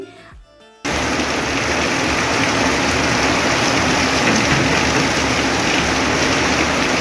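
Heavy rain pours down outside in a dense, steady roar that cuts in abruptly after a brief quieter moment, then stays loud and constant for the rest of the stretch.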